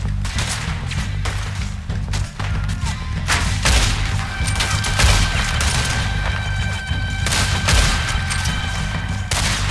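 Gunfire fills a Red Dead Redemption 2 firefight, with a steady run of sharp shots and crashing impacts over a dense, loud background, plus occasional game noises.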